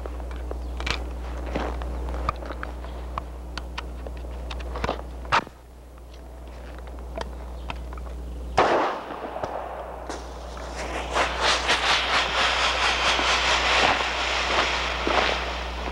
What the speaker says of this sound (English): it is possible to fire tear gas grenades, flares or signal rockets with a live round